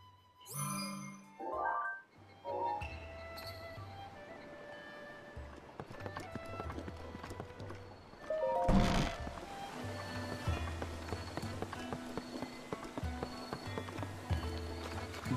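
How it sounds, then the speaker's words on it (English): A horse galloping in the video game The Legend of Zelda: Breath of the Wild, rapid hoofbeats with light jingling running through most of the stretch, after a few brief louder bursts near the start. "Um cavalo."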